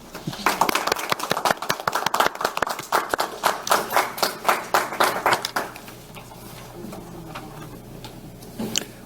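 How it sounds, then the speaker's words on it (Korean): Audience at a seminar and opening ceremony for a regional disability health centre in Incheon claps for the panelists in sharp, rhythmic bursts that pulse for several seconds, then thins out into scattered, quieter claps. "우리 패널들께 박수 드리면서"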